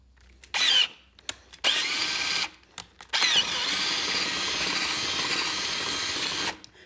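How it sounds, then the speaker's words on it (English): A power drill fitted with a larger bit bores a hole during installation of a ride-on toy lighting kit, whirring loudly in several short bursts before one long steady run, with brief quiet gaps between. "now I'll switch over to the larger drill bit and be able to get my hole exactly where I wanted it"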